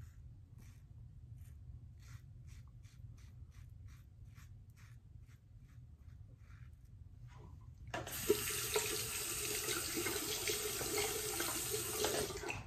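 A Karve Bison shaving brush is rinsed under a running tap; soft ticking comes first, then the water gushes on suddenly and flows steadily and close.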